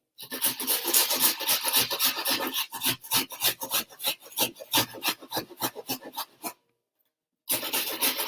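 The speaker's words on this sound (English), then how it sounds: "we're just going to grate a small onion." A small onion is grated by hand for manti, giving close, rhythmic rasping strokes that carry on steadily, then a short silent pause before the grating resumes.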